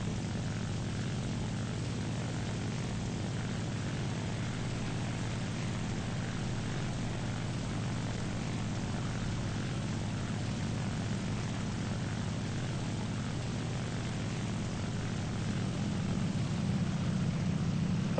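A propeller aircraft engine hums steadily in a flight simulator dogfight as the plane dives nose down with the engine throttled back, a constant drone that swells slightly near the end.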